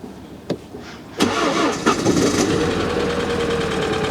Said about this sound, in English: Right, the car started up.